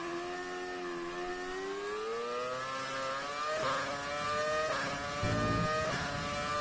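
Engine of a classic Formula One car in an F1 racing video game, a steady droning whine that slowly climbs in pitch, with brief shifts and a few short bursts near the end.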